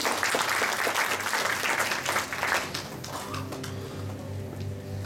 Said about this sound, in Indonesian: Tepuk tangan dulu dong untuk kita semua nih